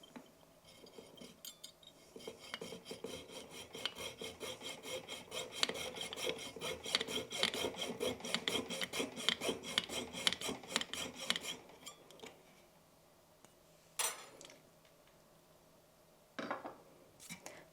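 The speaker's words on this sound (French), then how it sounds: "on a notre tube qui est placé à 45 degrés, donc on peut venir scier" A tube set at a 45-degree angle being cut with a hand saw, a steady rhythmic rasp of quick strokes for about twelve seconds, then a pause and a couple of short strokes, close and moderately loud.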